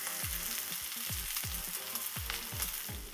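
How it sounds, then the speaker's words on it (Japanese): Cheese chicken meatloaf sizzling in a frying pan, a steady, fairly soft frying hiss that continues without break and with no voices. "ジューッと音がしてきましたね。今ジューッと。"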